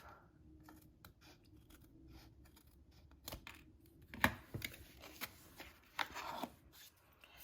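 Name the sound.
scissors snipping paper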